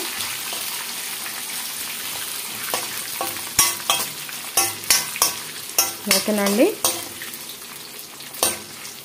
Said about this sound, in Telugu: ఇది కూడా కరివేపాకు కూడా వేగనిచ్చేసేసి, ఇదిగోండి పోపు ఇలా వేగాలన్నమాట చక్కగా